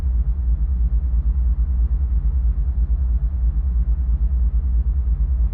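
Dash 9 diesel locomotive in Microsoft Train Simulator idling in its lowest notch, a steady deep rumbling drone with a slight pulsing throb, even and continuous throughout.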